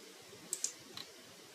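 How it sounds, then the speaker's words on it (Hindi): The F6 key and other keys on a computer keyboard are pressed, giving a few faint, sharp clicks, two close together then a quieter pair, over a low steady room hum. "कीबोर्ड पे मैंने F6 प्रेस किया"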